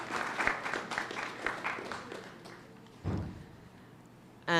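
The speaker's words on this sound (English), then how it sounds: "So I ask you to once again give them a round of applause" Scattered audience claps at a public speaking competition evening, distinct individual hand claps at first that thin out and fade, then a lone thump and a brief burst at the end.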